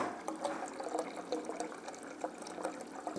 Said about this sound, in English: You just kind of recirculate the wort.